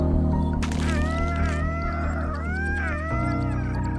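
A ghastling mob from Minecraft makes soft, rising and falling cat-like mewing calls, several in a row. They sit over a loud, steady droning music bed and change pitch near the end.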